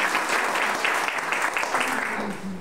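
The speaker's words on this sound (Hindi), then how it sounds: "बुजुर्ग हैं, उनके जोरदार ताली हो जाए।" Audience applause for elders at a Delhi BJP ward gathering: dense, sustained clapping from a crowd, steady and fairly loud throughout.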